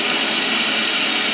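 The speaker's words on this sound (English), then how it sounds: "you can hear the planes outside here too" Planes fly outside the Air and Space Museum in San Diego, a loud, steady broadband jet roar that stays constant and near throughout, with no talking over it.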